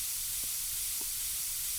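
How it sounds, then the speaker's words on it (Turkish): A spray can sprays in the Internet Cafe Simulator 2 video game, a steady, even hiss that holds without a break, with faint low thuds underneath. "İlla sprey mi sıkacağız?"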